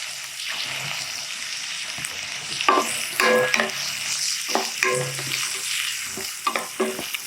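Chopped cabbage stirred and frying in hot oil with cauliflower, a steady close sizzle broken by a few scraping stirs of the spoon, no voices.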